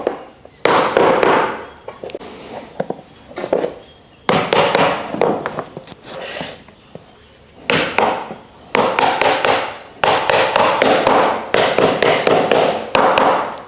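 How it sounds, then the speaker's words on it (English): A hammer repeatedly knocks partition shelf pieces into a package plant stand. The sharp taps land close and loud in quick bursts, separated by brief pauses, with no talking. "let's get started with our first piece and hammer it into place"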